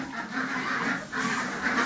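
Hens in a homestead coop cluck and murmur in a soft, continuous chatter, heard from another room.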